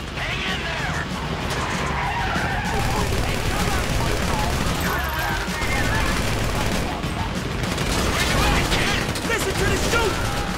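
Grand Theft Auto V gunfire crackles in dense bursts alongside skidding tires and engine noise, with excited voices shouting over the chaotic, continuous racket.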